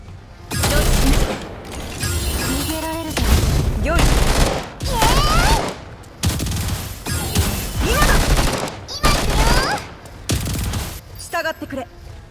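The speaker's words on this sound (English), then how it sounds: "Then shoot the boss again." Gunfire hitting a boss in the game GFL2, dense bursts of rapid shots in repeated volleys with short pauses between, layered with impact crashes and effects, with a voice talking over it.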